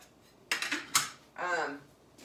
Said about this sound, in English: this is basically a box of Jiffy cornbread mix, what I just stirred up here